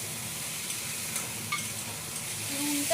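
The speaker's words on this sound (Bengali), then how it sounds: "আমি পেঁয়াজটা দিয়ে ভাজবো। আর পেঁয়াজ ভাজতে গেলে অটোমেটিক পেঁয়াজটাকে নরম করার জন্য আমরা একটু নুন দিয়ে দিই।" Onion frying in a pan with a little salt added, giving a steady soft sizzle with occasional stirring clicks, fairly quiet and without talk.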